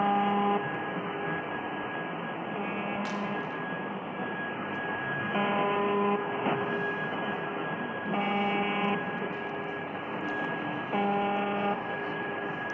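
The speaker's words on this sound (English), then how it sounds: "That's the sound of an unidentified Russian submarine, still passing that signal." Recorded signal of an unidentified Russian submarine: a steady electronic drone with sustained tones under a constant noisy hiss, with brighter bursts recurring every few seconds.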